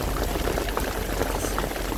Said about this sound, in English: constant lightning, it's pouring rain.